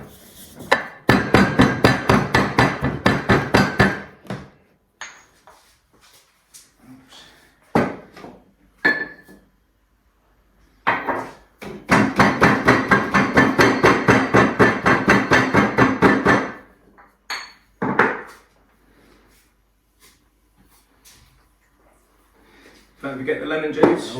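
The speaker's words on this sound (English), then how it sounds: "give them a bit of a bash and a pestle and mortar" Douglas fir needles are pounded with a pestle in a mortar: two long bursts of rapid, loud, regular knocks, separated by pauses with scattered single thuds and brief talk.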